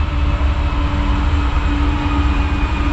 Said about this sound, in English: Why is the train always coming?